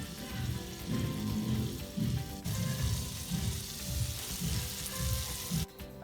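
Butter fries and browns in a pan with a dense, steady sizzle and low pulsing bubbling close by, and a voice speaks briefly over it.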